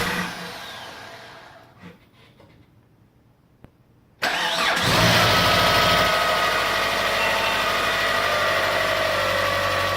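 Eagle Summit car engine, a turbo build currently running without its turbo, cranking briefly and catching on its first start, then settling into a loud, steady rough idle with a constant mechanical drone.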